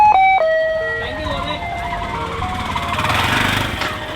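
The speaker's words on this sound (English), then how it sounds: "So if you ever hear that tune in Sri Lanka, you know it's the bread man." Jingle tune played from a Sri Lankan bread seller's tuk-tuk, a bright melodic loop heard loud at the start, then fading under street noise and a passing engine.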